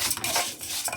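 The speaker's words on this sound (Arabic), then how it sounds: "بص الشعرية كده ها قاعدة اقلب فيها" Vermicelli fried in ghee is stirred in a pot, a brief burst of metal utensil scraping and clinking against the pot with a faint sizzle underneath.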